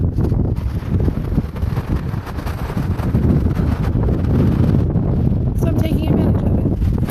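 Steady, heavy wind buffeting the microphone outdoors, a constant low roar with gusts, with a faint wash that could be surf underneath.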